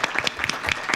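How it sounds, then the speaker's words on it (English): Applause at a school board regular meeting, with steady dense clapping from the audience in the room and a few sharper claps standing out. "I just want to give you a round of applause"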